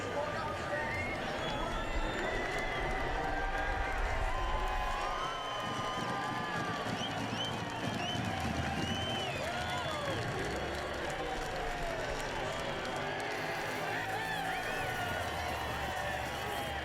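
A large crowd at the 2023 NASCAR Cup Championship race roars and cheers continuously at a distance, a dense wash of voices with no pauses.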